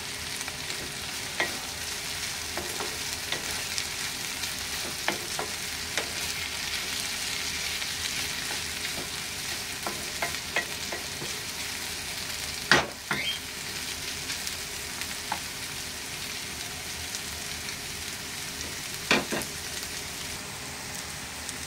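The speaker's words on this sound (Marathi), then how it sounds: "तो त्याच्यात मिक्स करूया आणि थोडासा गॅस फास्ट करून हे असं परतून घेऊया" Chopped tomato and onion stir-fried in a pan over high gas, a steady loud sizzle and crackle throughout with occasional scraping stirs of a spoon against the pan, no voices.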